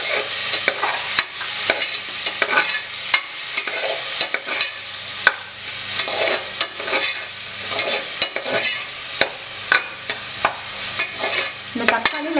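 Chopped tomato sautés with ginger and garlic in a pan for a country chicken soup, a bright crackling sizzle broken by repeated close scrapes and taps of a stirring spoon.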